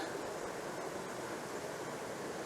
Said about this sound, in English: the sound of the rushing water adds something to it